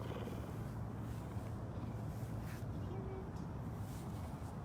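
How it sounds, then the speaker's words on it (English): A low, steady purr hums continuously, close to the microphone and fairly quiet, with no talking over it. "She does have a very good purr."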